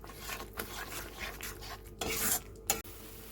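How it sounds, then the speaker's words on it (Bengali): A spatula scraping and rubbing through masala spices stir-frying in a pan for potol aloo tarkari; quiet, irregular strokes close by, with no voices. "মশলাটাকে ভালো করে কষিয়ে নিতে হবে।"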